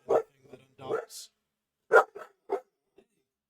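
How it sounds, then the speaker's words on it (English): A puppy named Eve lets out a string of short, sharp barks and yips in uneven bursts, close to the microphone, with gaps of quiet between them. "That was Eve the puppy again."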